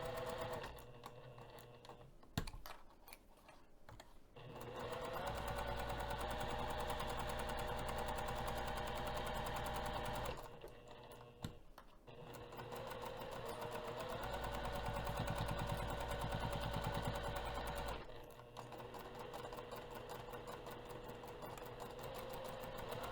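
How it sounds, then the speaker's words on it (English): A sewing machine runs stitches through fabric along a quarter-inch seam while a bag's cargo pocket is assembled. It gives a rapid, even mechanical whir in two long runs, with short pauses between them. "let's take this over to the sewing machine"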